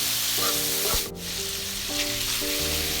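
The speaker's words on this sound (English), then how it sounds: "when it's cooked halfway, add kimchi in and stir fry together" Bacon and kimchi stir frying together in a hot pan give off a steady, loud sizzle with faint scraping and stirring clicks, no voices present.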